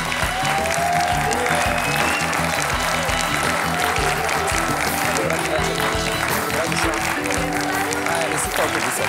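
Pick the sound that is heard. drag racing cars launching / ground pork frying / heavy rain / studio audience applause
studio audience applause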